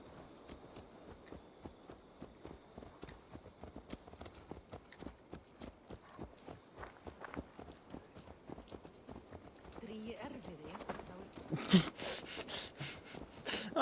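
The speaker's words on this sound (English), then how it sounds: "Let's return the horse." A horse's hooves clip-clop in Assassin's Creed Valhalla as a regular stream of close, crisp walking steps; a louder burst of clattering noise near the end briefly covers them.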